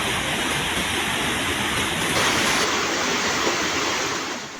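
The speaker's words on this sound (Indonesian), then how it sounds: "Hujan deras sejak siang menyebabkan Sungai Cikalumpang meluap." The overflowing Cikalumpang River rushes during a heavy flood after hours of downpour, a loud, continuous roar of churning water that fills the whole clip without pause.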